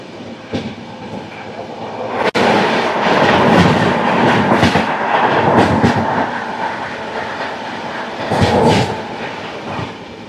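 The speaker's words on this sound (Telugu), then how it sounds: "Bengaluru Chennai central double decker వస్తుంది." A Bengaluru–Chennai Central double decker train passes close by with loud, continuous rolling rumble and clickety-clack of wheels over rail joints, a sharp bang near the start and a brief surge near the end.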